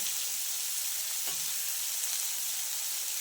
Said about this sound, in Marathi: शेंगा एकदम छान या फोडणीमध्ये परतून घेतल्या